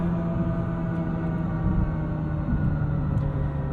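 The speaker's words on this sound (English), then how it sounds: "This does it sounds like an old, like a 1980s race car." A 2025 Hyundai Ioniq 5 N electric car's simulated race car engine sound: a steady droning hum with a whining tonal pitch, constant and fairly loud, with no voices.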